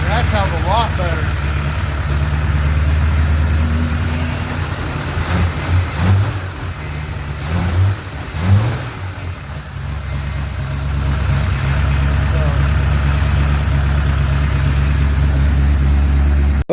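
A Chevrolet Blazer engine idles steadily after a valve lash adjustment, a constant low rumble that runs nearly the whole time with a few brief blips, close and fairly loud.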